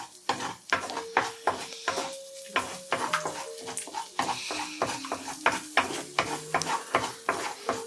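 Egg stir-fried in a non-stick Chinese wok over the flame: close, rhythmic scraping and clinking of a utensil against the pan, with a soft sizzle underneath and steady strokes every half second or so.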